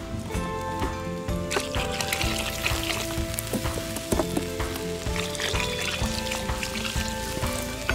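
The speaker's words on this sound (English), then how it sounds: "so I'm just gonna add a bit of water." Water pours into a pot of turkey chili cooking over a campfire, a continuous close trickle and splash with a faint sizzling quality throughout, no talk.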